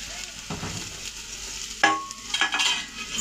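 Cauliflower florets sizzle and crackle as they hit hot oil seasoned with asafoetida for cauliflower kachori filling, a steady close frying hiss with a few sharper bursts of spatter as pieces land and are stirred.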